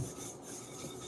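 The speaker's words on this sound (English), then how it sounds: "Take your hands and rub it around it," Hands rub oil around the inside of a glass bowl, giving a continuous soft rasping friction, close and fairly quiet, with no talk.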